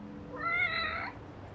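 Cherry the cat in Lost Judgment gives a single clear meow with rising and falling tone, loud and close, against a low ambient game background, with no talking.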